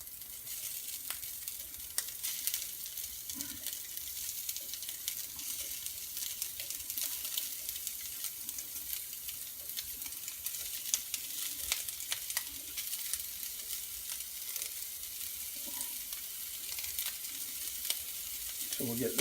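Sausage frying and being broken up in a pan just under medium heat for biscuit gravy, a steady close sizzle with scattered scraping stir clicks throughout.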